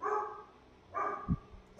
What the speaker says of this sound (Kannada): ಯಾವುದು ಬೇರೆ ನಾಯಿ ಹೋಗಿರುತ್ತೆ ಅದು ನೋಡಿ ಬಗಳ್ತಿರ್ತಲ್ಲ